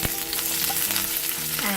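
Garlic hitting hot oil in a pan for chilli chicken, giving a steady, dense close sizzle that runs unbroken throughout, with no talk over it.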